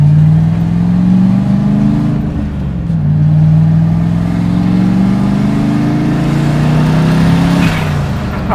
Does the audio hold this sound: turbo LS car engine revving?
yes